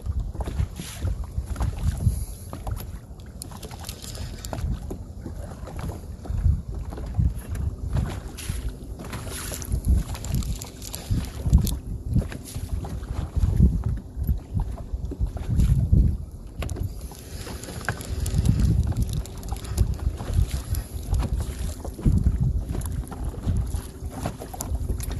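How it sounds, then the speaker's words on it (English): Strong wind gusts buffet a boat on a lake during bass fishing, a loud continuous low rumble of microphone wind noise with surging gusts, no talking. "now we got to deal with this wind"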